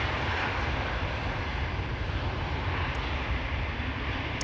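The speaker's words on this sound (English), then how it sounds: "C-17 Globemaster once again in the vicinity, you guys are saying, and I think it could be the airplane over there." A C-17 Globemaster military transport aircraft near Amsterdam Schiphol Airport produces a steady, broad jet roar that holds at constant loudness throughout, with no voices over it.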